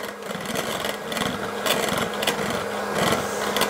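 A handheld electric mixer beats a thick chocolate cookie batter made with egg white powder, with a steady close whirring drone and a rough scraping texture as the beaters churn through the dough, continuous and unbroken with no talk.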